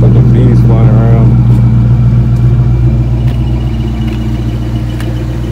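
A Mustang idles with a steady low rumble and a whirring throw-out bearing whine, close and loud, fading slightly toward the end, with faint voices underneath.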